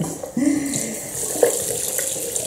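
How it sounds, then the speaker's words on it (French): Tap water running into a small bathroom sink during cleaning, a steady close splashing flow with a brief brighter gurgle midway, fairly loud and uninterrupted by voices. "J'en profite pour nettoyer mon petit lavabo, pour faire un petit ménage en même temps"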